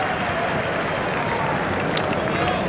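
Cricket crowd at Centurion during a 1998 Test match between South Africa and Sri Lanka, applauding a shot with steady, sustained clapping and cheering from a distance, with a commentator's voice over it.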